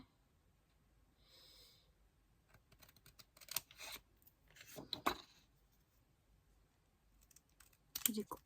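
Scissors snip through paper for a scrapbooking art journal collage, with faint, crisp clicking cuts in short irregular bursts, close by in a quiet room.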